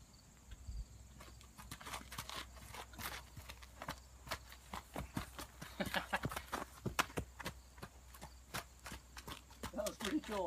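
Hooves of a young colt in early training step through a slow circling turn on the ground, a series of soft irregular thuds and scuffs, close by, with a person's voice nearby.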